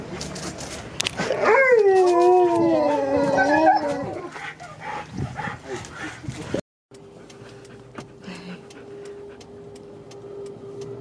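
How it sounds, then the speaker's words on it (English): A dog howls loudly and close by, a rising and falling wail lasting a couple of seconds with harmonics, followed by quieter outdoor background and faint voices on a hillside walk. "I heard a howl."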